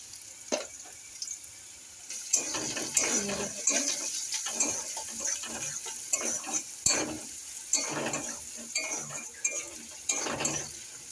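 Garlic and onion frying in oil in a karai, a soft sizzle under repeated scraping strokes of a spoon stirring the pan, rhythmic and close.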